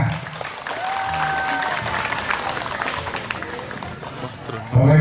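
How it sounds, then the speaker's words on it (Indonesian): Crowd applause at a village Independence Day ceremony in Indonesia, steady clapping throughout with a whistle-like tone and voices mixed in, growing louder at the end. "Tepuk tangan buat kita semuanya."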